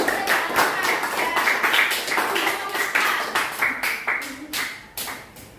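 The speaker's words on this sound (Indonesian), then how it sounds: "Tepuk tangan untuk kelompok." A classroom group claps for a group of students in quick rhythmic bursts, loud and close, with voices mixed in around the clapping.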